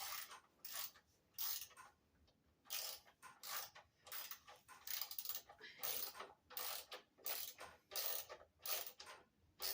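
A ratchet works a 10 mm bolt loose on a John Deere F525 mower in repeated quick clicking strokes. The bursts are irregular and close but quiet, with no talk.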